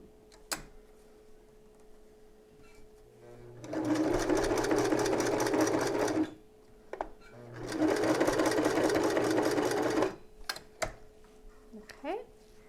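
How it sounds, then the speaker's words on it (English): Sewing machine stitching back and forth to secure a seam on a nursing bra conversion, two steady whirring runs of a few seconds each with a pause between, close and clear with small handling clicks around them. "I just want to sew that back and forth a couple of times to secure it."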